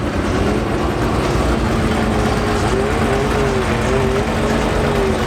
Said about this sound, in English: Nothing like an open header big block with a tunnel ram and dual carburetors.